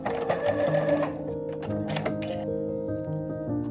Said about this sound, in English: Sew diagonally, making sure to meet your initial stitch line.